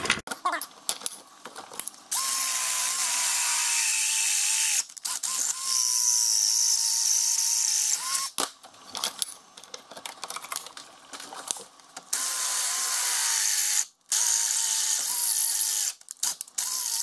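Drill bit grinding into the lower collar of an IH 26, 56, 66 series tractor range shift, loud and close, running in long sustained bursts with brief pauses and a whining pitch that sags and recovers under load.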